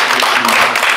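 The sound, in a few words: audience applause at a seminar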